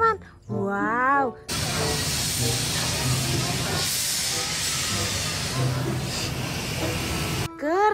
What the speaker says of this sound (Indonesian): ini adalah kereta Thomas